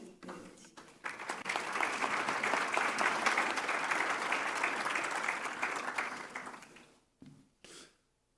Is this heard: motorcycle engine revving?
no